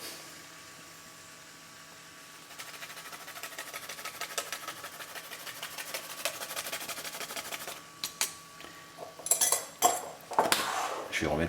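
Nutmeg scraped on a small grater for a pumpkin velouté in a home kitchen, a faint rapid rasping that starts after a quiet stretch and builds into uneven strokes, ending with a few clinks of metal utensils.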